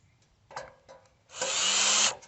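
A power drill drives bolts into a Yaheetech fire pit table during assembly, starting with a few short whirring bursts and then one steady, loud run lasting under a second.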